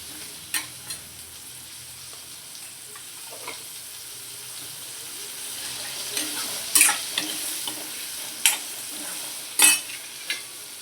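Boiled potatoes and cauliflower fry in a pan as a spoon stirs them, a low sizzle running underneath several sharp scraping clinks of the utensil against the pan.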